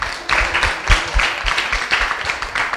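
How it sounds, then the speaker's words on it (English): A crowd applauds at a youth chat event, a steady wash of many hands clapping together, fairly loud and dense with no talk over it. "you really need to give yourself a big round of applause"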